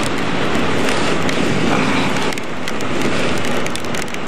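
Steady rain pours around a roadside stop in Balzac, a dense unbroken hiss close by and loud throughout, with no voices.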